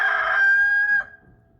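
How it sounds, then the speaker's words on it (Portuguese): A rooster crows one long, loud, ringing cock-a-doodle-doo, close by, holding steady for about a second before cutting off, followed by quiet room tone. "Canta o galo carijó, canta o galo rabicó."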